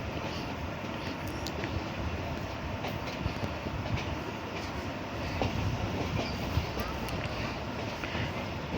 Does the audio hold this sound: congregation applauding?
no